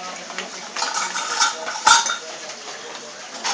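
A whisk beats a mixture in a bowl, making quick metallic clinks and scrapes in an uneven rhythm, with one louder knock near the middle and a faint voice in the background.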